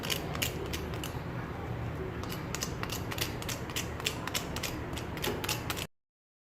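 Crispy fried potato lachha pakoras crunch steadily, the brittle fried strands snapping and crackling in a rapid, irregular stream of sharp close-up crackles with no talking.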